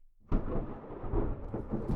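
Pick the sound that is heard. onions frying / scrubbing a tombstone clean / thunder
thunder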